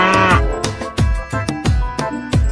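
A large toy cow lets out a rapid series of short, loud mooing calls, each dropping in pitch, repeating roughly every half second close to the listener.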